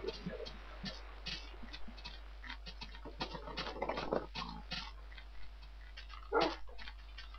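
A Minecraft wolf in the video game gives a string of soft, clipped whines and yelps that come close together, fairly quiet, with small game clicks between them and no talking.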